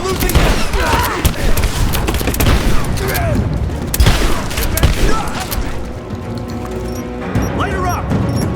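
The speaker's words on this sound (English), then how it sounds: "I'm taking fire!" In a Rise of the Tomb Raider firefight, dense, continuous gunfire rattles with overlapping automatic bursts and heavy impacts, while soldiers shout over the shooting.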